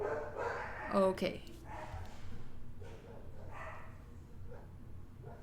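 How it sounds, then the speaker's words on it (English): Pet dogs bark in a short burst near the start, with a few quieter yips trailing after, all heard behind a person speaking into a microphone indoors. "Oops, sorry about my dogs barking."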